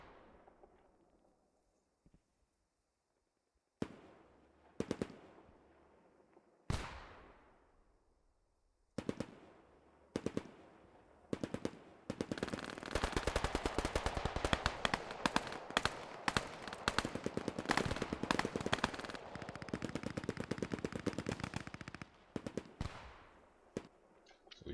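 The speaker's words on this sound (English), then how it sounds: "Just heard the Maxim fire a little burst here." A Maxim machine gun in a World War II-style multiplayer battle, isolated distant reports giving way to a long rapid-fire burst of sharp, crackling shots with echoing tails, fairly loud, no speech.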